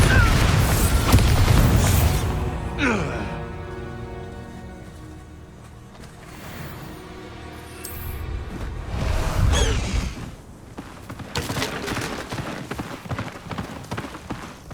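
Bombarda spell explosions in Hogwarts Legacy, heavy booming blasts with whooshing debris near the start and again around the middle, loud and close, with fainter rumbling in the lulls.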